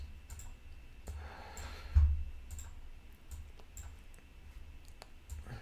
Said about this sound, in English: Let's click and drag.